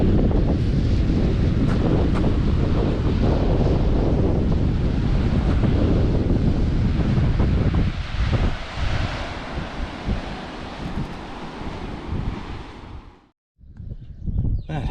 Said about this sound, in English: Wind's starting to pick up a bit now.